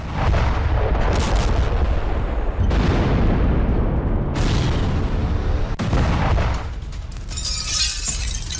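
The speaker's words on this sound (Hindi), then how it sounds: "यहां पर रूसी आर्टिलरी से हमले किए जा रहे हैं" Russian artillery fires on Ukrainian positions in Donetsk, with several loud, close, heavy booms at irregular intervals, each followed by a long rumbling decay that fills the space between them.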